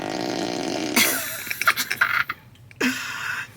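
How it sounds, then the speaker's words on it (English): A Tesla Model Y's novelty fart sound plays through the car, a loud low rasping burst followed by sputtering bursts and a second shorter blast, close and alone without talk. "I thought it was so funny that you can make your car fart"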